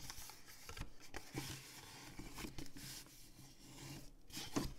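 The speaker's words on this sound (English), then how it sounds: "Then I'm going to flip the cardstock over, and this is the valley side where we did the scoring on the diagonal, and those we're going to fold backwards as well." Scored cardstock being flipped and folded backwards along diagonal score lines for a small diamond-fold card: soft, close creasing, rubbing and papery scraping in short irregular strokes.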